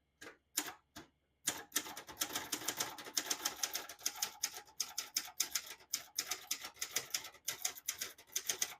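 Crisp mechanical keystrokes clatter in quick irregular bursts on a 2004 Olympia Traveller C portable manual typewriter after a few isolated taps, close and fairly loud, with no talking.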